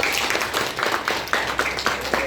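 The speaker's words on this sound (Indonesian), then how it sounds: "Tepuk tangan untuk semuanya." Children in an Indonesian classroom clap together for their classmates during a lesson on emotions, producing a soft, fairly steady patter of hand claps heard at a moderate distance.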